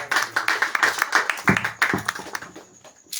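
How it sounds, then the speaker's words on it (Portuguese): A church congregation at an apostolic evangelical service claps hands in a quick, uneven burst of moderately close applause that thins out and fades toward the end. "E as palmas para Jesus e já agradeço."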